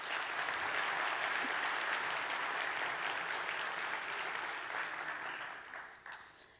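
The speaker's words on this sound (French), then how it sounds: "Je vous demande d'applaudir, s'il vous plaît." A conference audience applauds steadily as a speaker is welcomed, a dense, even wash of clapping that holds for several seconds, then thins and tapers off near the end.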